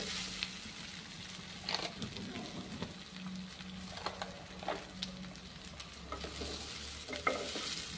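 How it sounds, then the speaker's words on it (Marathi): Methi vadi frying gently in oil over a low flame, a soft continuous sizzle with occasional scraping stirs of a spatula and a low background hum, fairly quiet throughout. "अगदी मंद आचेवर छान अशा वड्या आपल्याला फ्राय करून घ्यायच्या आहेत"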